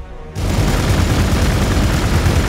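Dense gunfire and booming blasts from the strategy game Warhammer 40k: Gladius break in after a brief quiet start, then hold as a loud, continuous barrage of shots and impacts with no talking.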